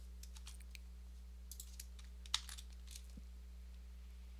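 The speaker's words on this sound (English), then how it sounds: "So I'm just going to type DCA underscore list dot" Faint scattered key clicks from typing code on a computer keyboard, irregular light taps over a steady low electrical hum, with one slightly sharper click midway.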